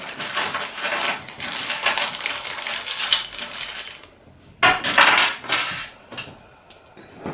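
A Singer C520L Serenade sewing machine accessories bag being opened, with bursts of crinkling, rustling plastic and small clattering bits close by, in several short bouts separated by quieter pauses.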